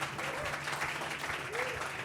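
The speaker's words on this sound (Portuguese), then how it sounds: "Vamos aplaudir isso?" Applause from a youth church gathering, a dense, moderately loud wash of clapping with a few voices calling out over it.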